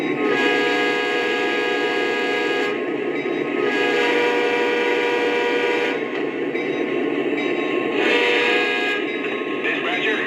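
Lionel GP-30 model train locomotive running, a steady loud mechanical hum and rumble with a continuous tonal whine throughout and a voice speaking over it.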